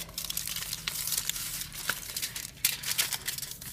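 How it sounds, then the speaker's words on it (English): Paper being folded snugly over a chipboard backing for a yarn relief craft, with several close crinkling and rustling bursts and small taps over a faint steady hum, no talking. "you will fold it over very carefully, folding it snug so you have a clean line over the chipboard"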